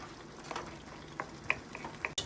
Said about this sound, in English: Now I'm gonna lay my fish in. Let that cook in there, saute in there for a minute.